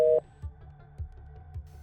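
A short electronic tone cuts off, followed by a few soft, evenly spaced low pulses as a phone line goes dead.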